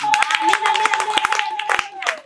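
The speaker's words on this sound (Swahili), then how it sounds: "Makofi mengi kwa ajili yao." Church congregation applauding people being baptised, a brisk run of hand claps under a voice speaking.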